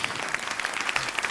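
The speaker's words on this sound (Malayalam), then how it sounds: "അവരുടെയൊക്കെ പെർഫോമൻസിന് നല്ല കൈയടി." An audience at a Malayalam comedy show applauds the performers with a brief burst of dense, even clapping.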